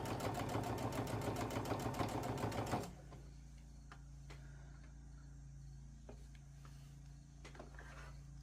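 A sewing machine runs in a fast, even rattle for about three seconds, then stops, leaving a faint hum and a few light clicks.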